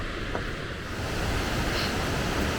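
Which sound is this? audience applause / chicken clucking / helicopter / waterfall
waterfall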